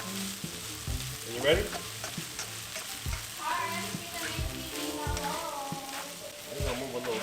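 Shrimp dish frying in a pan and being stirred, a steady sizzle with scraping utensil strokes and knocks throughout, while people talk nearby.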